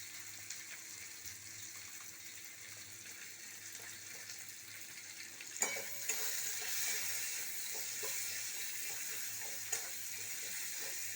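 Watermelon rind mash with raw onion frying in a pan and being stirred, a steady low sizzle with occasional scraping knocks of the spoon, moderately close and fairly quiet, with no talking.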